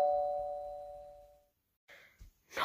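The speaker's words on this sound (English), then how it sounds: "I hate that bell." A doorbell rings once with a sustained ding tone that slowly fades, followed by brief scattered noises after a short silence.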